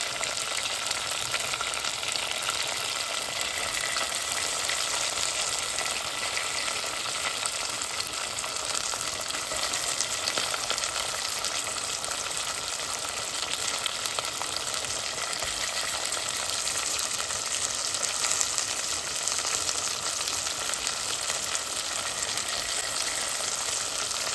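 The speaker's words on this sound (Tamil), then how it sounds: "பூண்டும் பச்சை மிளகாயும் போட்டுக்கொள்கிறேன். இப்போ வெங்காயம் போட்டுக்கொள்கிறேன்." Onion, garlic and green chilli fry in a pan for a Sri Lankan-style mutton leg dish, giving a steady, dense sizzle that holds evenly throughout with no voices.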